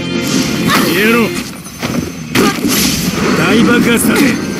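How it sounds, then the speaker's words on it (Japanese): Booming blasts and crashing impacts from a battle in the Naruto Online video game come in repeated heavy bursts, loud and close, under energetic character voice lines and shouts. "大爆発だぜ。"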